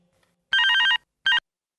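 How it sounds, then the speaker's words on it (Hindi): A telephone rings in a Hindi-dubbed South Indian movie scene: one bright electronic trilling burst followed by a shorter second burst, loud and clear with no talk over it. "फोन बज रहा है"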